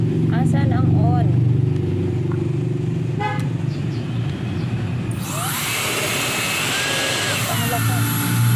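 A rechargeable mini jet fan is switched on partway through and runs with a loud, steady high-pitched whoosh, following a stretch of low rumbling background noise and a few horn-like beeps.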